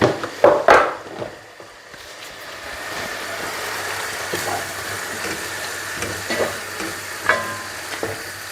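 Homemade tomato mixture frying in a pan for borscht, a continuous close sizzle with a few louder stirring scrapes and clatters near the start and scattered later, no speech.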